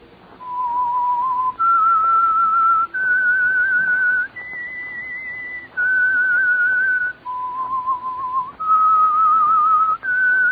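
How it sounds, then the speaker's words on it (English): Someone whistles the eerie, slow theme signal of The Whistler radio mystery program: a clear, lone melody of sustained notes, each held for a second or more, that steps up and down with brief pauses between phrases. "That whistle is your signal for the Signal Oil Program,"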